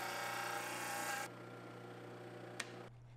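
Disc sander shaping a wooden knife sheath for a Damascus steel knife: a steady, close abrasive whirring hiss that drops in intensity partway through, with a brief scrape, then the motor hum winding down at the end.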